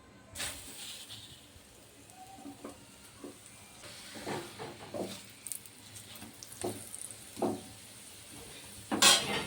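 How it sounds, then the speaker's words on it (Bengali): Sugar paratha frying in oil in a pan, a faint soft sizzle with scattered light scraping and pan clinks, ending in a sharper clatter. "এইভাবে সবগুলো আমি ভেজে নেব।"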